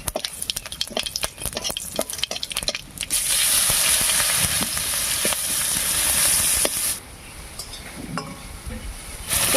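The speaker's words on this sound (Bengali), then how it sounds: "এবারে মাছ ভাজার এই তেলের মধ্যেই ফোড়ন দেবো আর ফোড়ন দেবো হাফ চামচ গোটা জিরা দুটো শুকনো লঙ্কা দুটো তেজপাতা আর পেঁয়াজ কুচি দিয়ে" Whole cumin, dry red chilies, bay leaves and chopped onion go into oil left from frying fish for a spicy singi fish curry. Clinks and stirring come first, then a loud hissing sizzle that eases off near the end.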